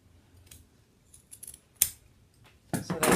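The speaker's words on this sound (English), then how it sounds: "So we're going to trim a lot of that extra away, and you can trim it." Scissors snip through excess upholstery fabric on a Parsons chair, several short, crisp cuts spaced irregularly, the last ones louder and closer.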